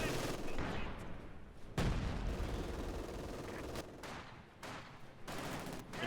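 In the World War II strategy game Company of Heroes 2, an MG42 machine gun sprays rapid rattling bursts amid the thuds of other battle gunfire. The sound is dense and continuous with a sharp crack near the start, and a commentator talks over it.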